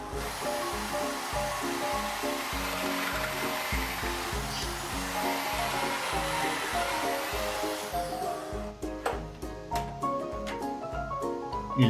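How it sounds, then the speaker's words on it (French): Electric drill boring a small hole through a wooden board held in a hand clamp, a steady close whirring drone running for many seconds, then breaking into rough stuttering bursts near the end. "Et je perce."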